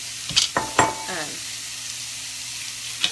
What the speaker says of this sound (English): So these are the zucchini noodles. I put them in a pan with a little bit of olive oil